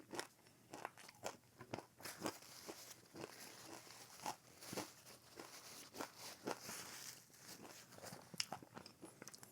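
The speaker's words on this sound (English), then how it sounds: "Good crunch." Crunchy bites and chewing of a Filipino Ilocos empanada, a quiet close series of sharp crackling crunches repeating irregularly over several seconds, with no talking.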